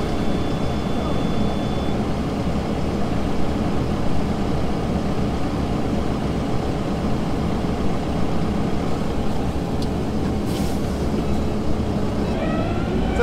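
A tractor engine runs steadily and loudly throughout while it plows light, fluffy snow over frozen ground, a continuous close drone with no talk.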